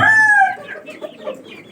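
A chicken gives a loud, close call followed by a few softer clucks on a farm.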